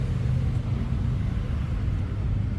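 Honda CBR600F Hurricane 600cc motorcycle idles quietly nearby, giving a low, steady rumble that stays even throughout with no voices over it.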